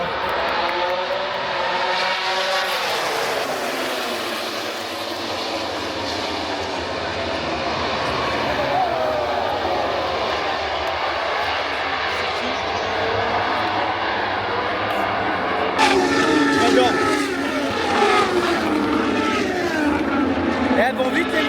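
Fast motorcycles race by in a sustained engine roar that rises and falls as they pass, with another loud pass toward the end and people talking over it.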